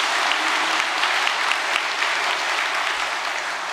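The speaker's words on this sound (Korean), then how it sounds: "축사를 해주신 세계 VVIP 지도자들에게 감사의 박수 한번 크게 보내주시면 고맙겠습니다" Large assembly at a UPF peace event giving loud, sustained applause to world VVIP leaders after their congratulatory speeches, a thick, continuous wash of clapping from a big crowd.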